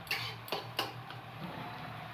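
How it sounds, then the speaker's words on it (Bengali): Chopped onion frying in a pan, with three sharp clinks of a utensil against the pan near the start, then a softer scraping and stirring sound over a faint low sizzle. "দু তিন মিনিট নাড়তে থাকবেন যতক্ষণ না পেঁয়াজটা লাল হচ্ছে।"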